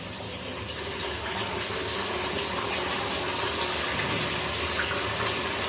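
Sabudana vadas fry in hot oil, three at a time, giving off a steady, dense sizzling hiss at close range that keeps going evenly without pause.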